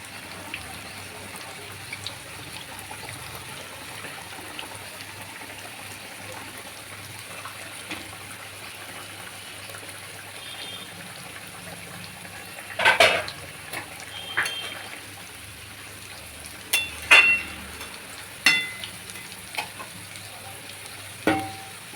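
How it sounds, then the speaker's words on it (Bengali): Raw banana kofta balls go into boiling gravy in a pot: a soft, steady simmering hiss runs throughout, then a few clinks and small splashes land near the end. "ঝোলটা ফুটে গেছে, এবার বড়াগুলো দিয়ে দেবো"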